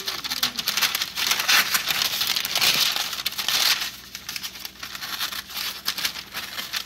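Scissors snip through parchment paper, cutting just inside a traced line while baking a frosted carrot cake; a steady, close run of crisp crinkling and rustling with no talking.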